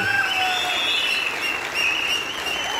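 A large audience at a motivational sales talk claps in a dense, steady wash of applause that keeps an even level throughout, with no voice heard over it.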